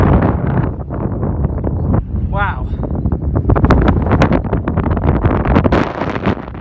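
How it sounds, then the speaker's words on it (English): Strong storm wind on the GR10 hiking trail buffets the microphone in a constant rumbling roar, with a brief exclamation and a short whistle under the gusts. "It's windy. It is properly windy."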